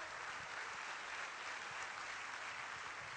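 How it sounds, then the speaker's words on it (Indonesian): Faint, steady audience applause at a business opportunity presentation, a uniform hiss of many hands clapping continuously from some distance. "Tepuk tangan untuk Bapak saya."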